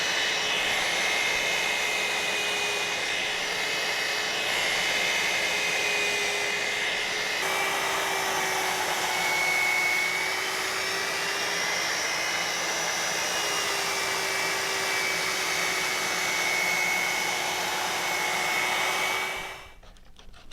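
A powered sander with 36-grit coarse abrasive grinds material off the tip of a Master Sword replica blade, a steady loud whining drone held for about twenty seconds before spinning down at the end.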